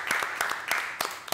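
A handful of people in a live-stream cooking setting clap in a short, uneven burst. The claps are separate and fairly close, with a few of them landing louder than the rest.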